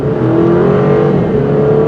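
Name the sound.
sports sedan exhaust accelerating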